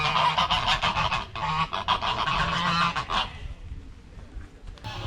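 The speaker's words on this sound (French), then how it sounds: "C'est des oies." Geese honk loudly and close, a burst of repeated overlapping calls for about three seconds before fading to quieter outdoor ambience with a last faint honk.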